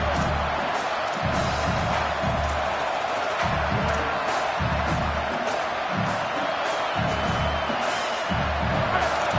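A Texas football stadium crowd roars on fourth down, loud sustained cheering and whooping with rhythmic chanting swells under a commentator's voice.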